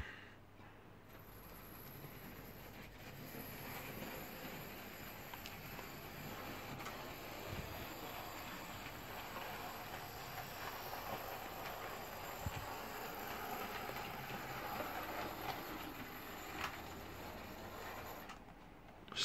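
A Hornby model steam engine pulls an auto coach and a Pullman car around a shunting layout, giving a faint, steady mechanical whirr and hiss with occasional small clicks of wheels on track, no voices.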